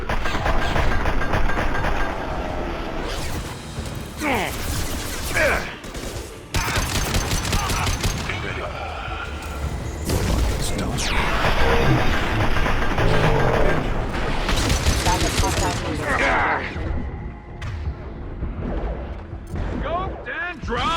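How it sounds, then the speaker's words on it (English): Gunfire and explosions from a firefight in the video game Mass Effect 2 keep up a dense, loud barrage of shots and booms, with voices calling out over the battle. "Open fire."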